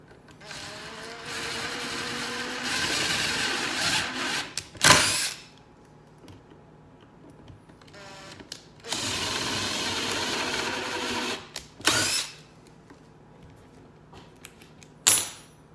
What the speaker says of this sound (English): Drill your pilot holes.